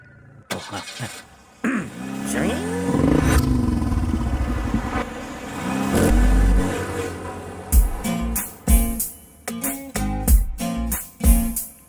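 A car engine runs steadily and drives along, with a rising and falling drone, followed by a series of clattering knocks and bumps near the end.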